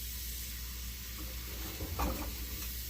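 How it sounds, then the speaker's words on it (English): An old cast iron skillet being rinsed out with water, heard as a steady, loud broadband hiss of running water, with a brief splashing swell near the end. "all I'm doing is rinsing it out to see where I'm at"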